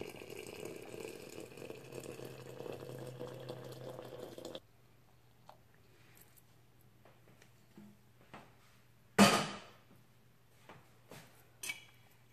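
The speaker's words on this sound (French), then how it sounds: "je vais mettre l'eau très chaude et le sucre, il va fondre dans l'eau" Very hot water pours steadily into a teapot for sugared mint tea for about four seconds, then stops, leaving quiet room tone with a few scattered clinks and taps.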